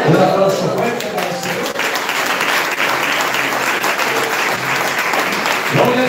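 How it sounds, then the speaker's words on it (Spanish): A congregation at a Christian church wedding ceremony bursts into loud, dense applause that holds steady and sustained throughout, with faint voices mixed underneath. "Un aplauso fuerte para el"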